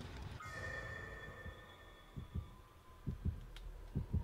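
Heartbeat effect in the horror game Dead by Daylight, low thumping double beats that start sparse and grow more frequent, faint under a lingering tonal hum.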